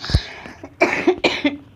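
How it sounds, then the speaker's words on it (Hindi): A short burst of two or three close, raspy coughs following a quick breath. "मेरा गला सच में बहुत खांसी आ रही है मुझे"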